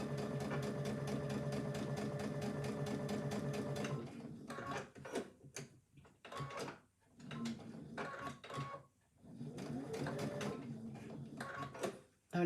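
A sewing machine stitches fabric for a cup cosy, giving a steady, fast mechanical whir for several seconds before it stops. Shorter, uneven bursts of stitching and handling sounds follow.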